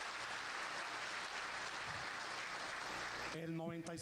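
Applause at a public address on Venezuela, a dense wash of clapping from a crowd that carries on steadily and then fades as a voice begins speaking.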